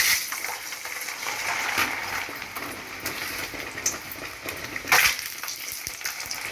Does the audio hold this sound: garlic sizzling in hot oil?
yes